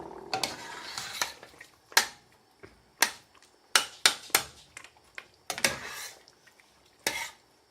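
Spoon stirring a cooking pot of mutton and swede after tomatoes go in, sharp irregular clanks and scrapes against the pot with short quiet gaps between strikes, close and clear.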